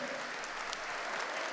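A church congregation claps during a Catholic celebration, a short spell of steady crowd applause with a faint voice beneath it.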